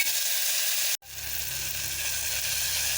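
Onions and tomatoes sautéing in a pan, a loud, steady hiss of frying that continues alone with no voices, broken by a brief dropout about a third of the way through.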